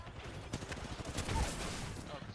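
A burst of Apex Legends gunfire, rapid repeated shots rattling close and loud, with a heavier thump in the middle of the volley.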